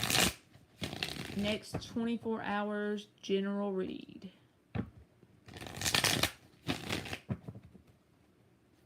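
Tarot cards are shuffled in several quick riffling bursts during a live reading, with a speaker talking between and over the shuffles.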